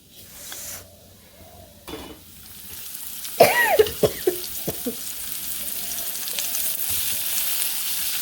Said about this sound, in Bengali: তারপরে পেঁয়াজ দিয়ে দিছি তো পেঁয়াজটা হালকা ভাজা ভাজা